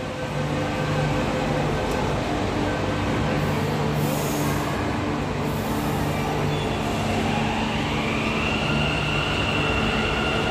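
A metro train at Lalbagh metro station in Bengaluru gives a steady, loud rolling rumble with a faint high whine, continuous for the whole stretch and free of voices.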